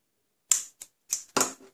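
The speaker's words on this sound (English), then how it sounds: "so I'm going to snip this here" Scissors snipping ribbon while tying a gift box bow, a few short crisp cuts close by in quick uneven succession, with no voices.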